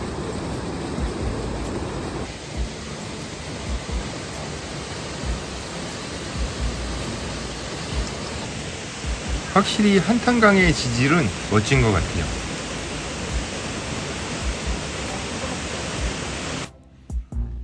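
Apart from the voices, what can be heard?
waterfall on the Hantan River, Jaein Falls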